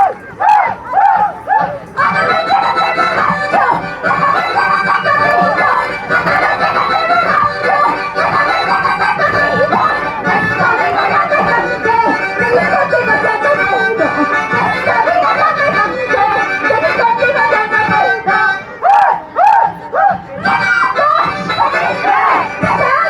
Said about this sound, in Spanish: A ver los aplausos del público maravilloso.